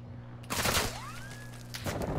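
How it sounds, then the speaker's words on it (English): A shotgun fires in a video game: one quiet, short burst of blast noise, followed a little over a second later by another faint shot, with a steady low hum underneath. "That's a really good shotgun."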